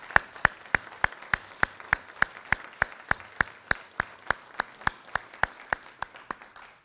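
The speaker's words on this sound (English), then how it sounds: "I believe they do deserve a great round of applause." Applause at a high school military recognition ceremony, heard as crisp, evenly spaced claps in a steady rhythm, about three per second, fairly close and with no voices over them.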